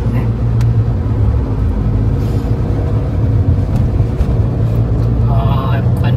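A Honda N-WGN turbo kei car climbs uphill, its steady low engine drone and road rumble filling the cabin at constant loudness, with people talking over it.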